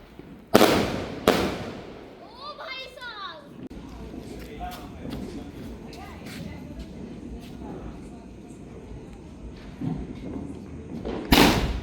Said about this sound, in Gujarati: હવે આ ફટાકડો કેવું ફૂટે છે જોઈએ